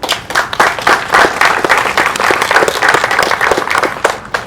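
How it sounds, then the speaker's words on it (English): Audience applause at a Juneteenth commemoration event, dense, close clapping from a crowd with distinct sharp hand claps, loud and sustained throughout. "Give her applause."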